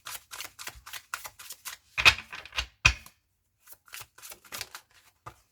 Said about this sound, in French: Alors, on va tirer une troisième carte.